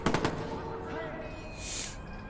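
Gunfire in the video game Watch Dogs: a quick burst of rapid shots at the start, then sustained game noise and music-like tones, fairly loud under the mix, with no talk heard.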